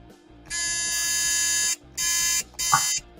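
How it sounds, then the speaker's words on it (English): A Taboo board game buzzer sounds three times, a long harsh electronic buzz and then two shorter ones, loud and close, with a voice briefly underneath. "You have the freaking Taboo buzzer out,"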